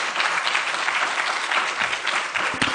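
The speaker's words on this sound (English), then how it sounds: "Can we give her a round of applause?" An audience gives steady, dense applause after a talk on connectivity and inclusivity in higher education, a full round of clapping heard alone.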